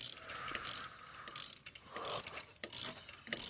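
An electronic parking brake caliper mechanism is wound back by hand, giving repeated ratcheting clicks and grinding turns in uneven bursts, close and fairly loud, with no voices.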